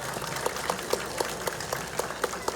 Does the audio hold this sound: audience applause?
yes